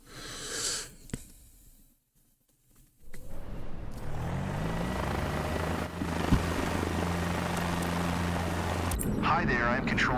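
Helicopter in Microsoft Flight Simulator 2024, its engine and rotor entering after a brief quiet gap and then holding a steady droning hum with tonal harmonics, loud and continuous to the end.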